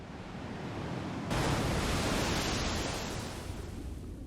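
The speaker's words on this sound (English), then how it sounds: "Is that me getting thrown into the water?" Broadband rushing water noise as the player character is thrown into water in Elden Ring, a steady wash that jumps louder partway through and holds there like surf or a splash swelling, with no talk.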